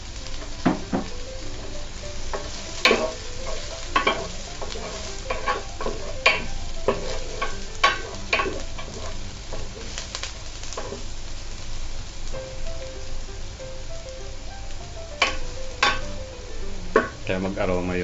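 Garlic sizzling as it is sautéed in a pan for chicken soup with spinach and corn, a steady crackling fry with frequent stirring scrapes and clicks, close and continuous.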